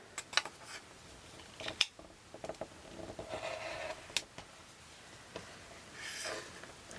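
Quilt fabric is trimmed into pieces with scattered soft snips and crisp ticks, quiet and close, with light rustling between cuts.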